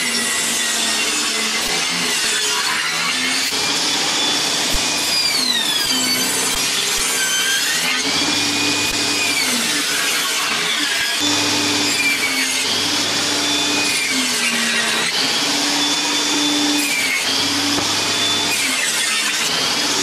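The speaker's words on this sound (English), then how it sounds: "to start with I'm just going to rough cut it on the table saw" A table saw rough-cuts wooden door panels, a loud continuous whining roar of blade through wood that holds steady for the whole stretch, with slight pitch dips as the cut loads up.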